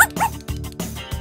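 Cartoon dog giving a few quick yipping barks in rapid succession, close and fairly loud, in an animated comedy scene.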